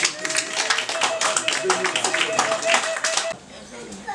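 Wedding guests at a Congolese customary wedding in Ivry-sur-Seine clap together in a steady, dense burst of applause lasting about three seconds, with voices mixed in, before it stops abruptly.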